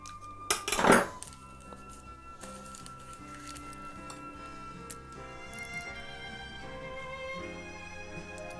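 A knife cuts through rolled puff pastry on a chopping board with one sharp, close knock near the start. A quiet, faintly humming room follows.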